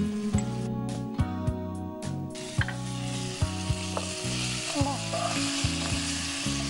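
Spices frying in a pan make a loud, continuous sizzle with occasional stirring clicks, heard close up over a steady, rhythmic musical background.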